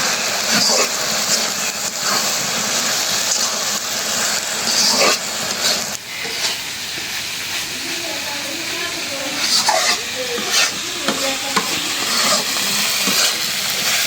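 Banana flower fries in plenty of mustard oil with a continuous, fairly loud sizzling hiss that swells and ebbs across the clip.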